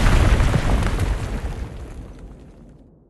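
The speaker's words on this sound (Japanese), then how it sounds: "爆発" A big explosion jutsu in the mobile game Naruto Online, hitting with a loud, deep rumbling blast at once and then fading out gradually into near silence over a few seconds.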